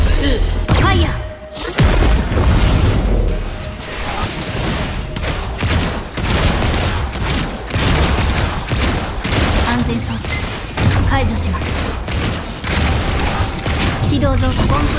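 A sustained weapon barrage in the Honkai Impact 3rd video game, dense loud rapid firing and heavy impacts running almost continuously, with a brief dip early on and voiced lines over it.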